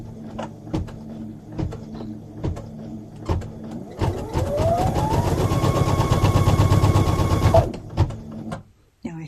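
Computerized embroidery sewing machine stitching a fabric coaster over tape, a steady mechanical whirring and rapid needle clatter that starts with a rising motor pitch, runs for a few seconds, then stops, with faint ticking before and after.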